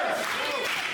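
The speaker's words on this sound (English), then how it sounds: "the crowd solidly behind him as Benny cheering on the group" Wrestling crowd at a women's match applauding and cheering in a steady, dense roar, with speech blended into the noise.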